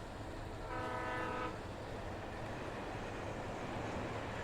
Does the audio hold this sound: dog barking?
no